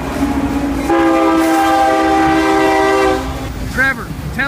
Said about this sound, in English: Of course, a train is coming by while we're on film